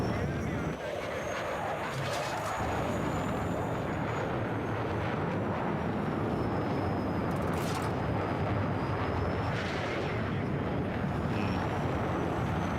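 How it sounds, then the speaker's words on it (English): A jet aircraft in the video game Battlefield 6 roars loud and continuous, a dense broadband rush with swelling passes that mask other game sounds. "that sounds like I've got a jet on my arse"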